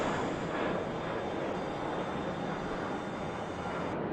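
Airliner engines spooling up in Microsoft Flight Simulator during pushback at Gatwick, a steady broadband roar with a faint high whine held evenly throughout.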